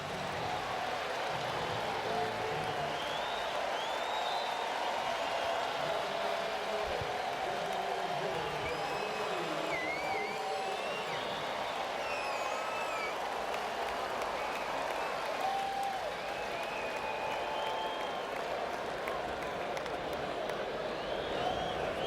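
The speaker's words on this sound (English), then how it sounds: "Crowd now realizing it as they come to their feet for Brock Holt." A Fenway Park crowd applauds and cheers at a Red Sox baseball game, honoring Brock Holt hitting for the cycle, with a dense, sustained roar of clapping throughout and a commentator's voice faintly over it.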